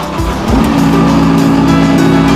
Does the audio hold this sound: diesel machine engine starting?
yes